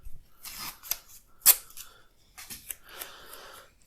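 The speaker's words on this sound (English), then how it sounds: "Again, tape it" Tape being pulled and applied to a battery pack, with several sharp ripping and crackling bursts, close and fairly quiet, separated by short pauses.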